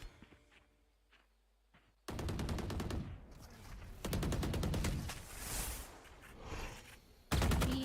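Rapid automatic gunfire in Valorant, bursts of sharp rattling shots starting abruptly, pausing, then resuming, loud and close.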